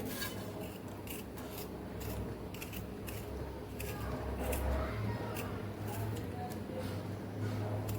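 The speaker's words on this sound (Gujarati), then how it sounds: "હવે આપણે ટમેટાને પણ સેમ એ જ રીતે આપણે ઝીણું ઝીણું સુધારી લેવાનું છે" A knife finely chops tomatoes on a board for chaat, making quick, close, repeated tapping cuts over a steady rustle of kitchen background sound.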